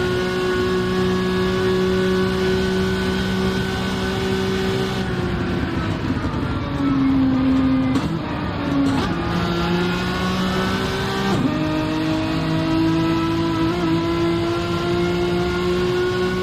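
Race car engines whine loudly and steadily in a racing game, with pitch dips and shifts as the cars run in each other's slipstream. The sound is close and continuous, with no voices over it.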